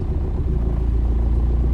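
A diesel TDI-swapped Jeep Wrangler with an AW4 automatic idles in gear during a test drive, a steady low engine rumble close by with no talk over it.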